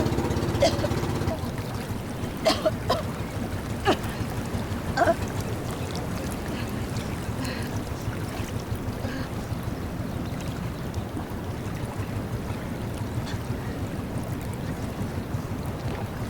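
Boat motor drones steadily through a sea crossing toward Sabah, with wind buffeting the microphone and water splashing in scattered bursts, a few brief voices heard faintly.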